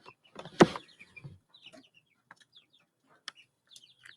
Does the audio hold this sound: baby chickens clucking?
yes